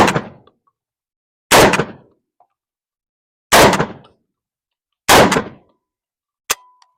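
A Tokarev TAR12 shotgun fires four loud, sharp blasts outdoors, each spaced well apart and followed by a short decaying echo, then a faint metallic click at the end.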